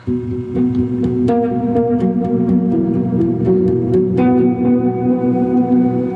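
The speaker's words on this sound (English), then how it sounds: "That's the delay and the reverb." Electric guitar plays picked notes and chords drenched in delay and reverb from a TC Electronic Plethora X5 pedal, each attack trailing into echoing repeats and a lush, sustained wash.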